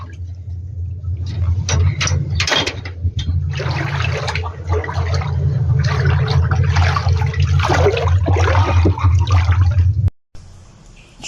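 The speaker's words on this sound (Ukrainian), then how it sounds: "Очень сильно река Башик разлилась." The flooding Bashik river rushes in a loud, close, continuous roar of churning water that runs steadily for about ten seconds before cutting off abruptly.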